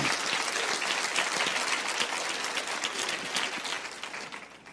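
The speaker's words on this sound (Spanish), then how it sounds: "aplauden al Señor si quieren," A church congregation claps steadily and loudly throughout, a dense wash of applause that tapers slightly near the end.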